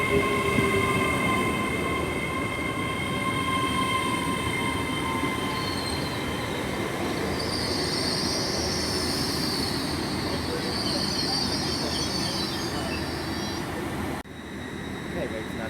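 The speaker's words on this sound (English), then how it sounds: "getting ready to depart now is 800 308, which is on the 1731 service to London Paddington" Class 800 train, unit 800 308, departing Swindon station on the 17:31 service to London Paddington, a steady rumble of running gear with squealing wheels and a high electric whine throughout, loud and close.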